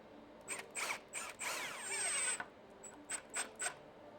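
Power drill driving screws in short repeated bursts, a close whirring motor rising in pitch during each run, with one longer sustained drive in the middle followed by several quick pulses.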